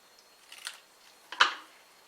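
Scissors cut a piece of cardstock for a triple-layer card: two quick, crisp snips close by, the second sharper and louder, in an otherwise quiet room.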